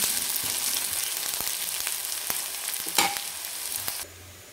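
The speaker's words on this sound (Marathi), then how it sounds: "छान मिक्स करून घ्यायचं" Vegetable curry is stirred and fried in a pan, giving a loud steady sizzle broken by repeated scraping strokes of a spoon, one sharper clatter near the end, and then an abrupt drop to quiet.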